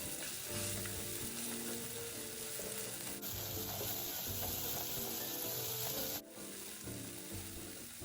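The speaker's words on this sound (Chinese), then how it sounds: "蛋液一下锅，快速搅散。" Beaten egg hits a hot wok over medium-high heat and fries with a constant loud sizzle as it is stirred quickly, with scraping texture running under the crackle and no talking.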